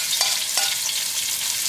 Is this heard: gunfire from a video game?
no